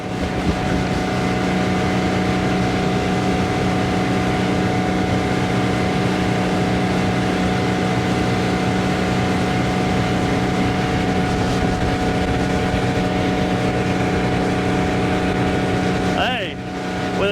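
A 1973 Cobalt motorboat's engine roars steadily at about 40 miles an hour with rushing water and wind, loud and close throughout, briefly dipping near the end.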